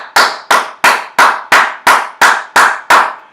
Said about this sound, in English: I'm kind of cupping my left palm and hitting it with my right fingers, and my fingers are as closed as I can get them, and I'm going to clap